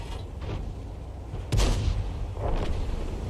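Tank cannon fire in a tank video game, with a single deep boom midway through over a low rumble of battle, then a fainter second report a second later.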